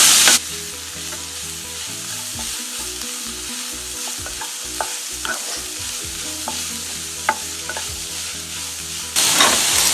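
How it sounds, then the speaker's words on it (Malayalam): Sliced onions sautéing in a pan with a little salt while sole fish is being prepared, a steady close sizzle with stirring clatter throughout and a louder frying burst near the end. "ഇപ്പൊ സവാള ഒന്ന് ചെറുതായിട്ട് വഴന്നു വന്നിട്ടുണ്ട്."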